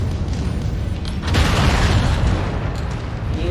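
Deep, rumbling missile blasts from battling mechs in MechWarrior 5 merge into one continuous roar, swelling loudly around the middle and then easing off, with no voices.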